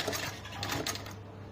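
A sewing machine stitches a fabric hair bow in a quiet, brief burst of soft, rapid mechanical ticking that fades out near the end.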